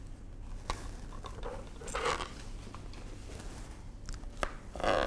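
A knife cuts food into slices for a breakfast pizza, with a few soft, scattered chopping knocks on a board over a quiet, even room background.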